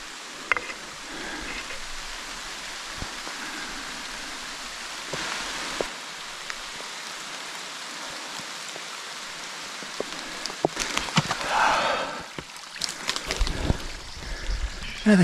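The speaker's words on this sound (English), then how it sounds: "Raining again." Steady rain falls in a forest, a constant soft hiss with occasional drips and thumps close by and some rustling near the end.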